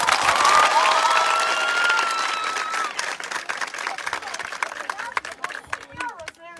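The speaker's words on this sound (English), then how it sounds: "Let's give her a round of applause" A school crowd in Kenema, Sierra Leone, bursts into loud clapping and high cheers for a visiting First Lady, the dense roar thinning after a few seconds into scattered, distinct claps with background chatter.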